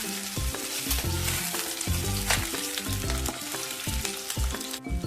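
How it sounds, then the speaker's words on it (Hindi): Potatoes fry with eggs in a pan for an egg curry, making a constant close sizzle. Utensil knocks and scraping strokes come at an irregular rhythm over it, without any talking. "आलू फ्राई हो जाएगा इसमें"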